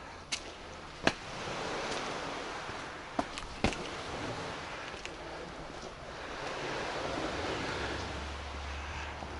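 Surf rolls onto an open beach at Solnechnogorskoye in Crimea, a steady wash of waves with wind buffeting the microphone and a few sharp knocks.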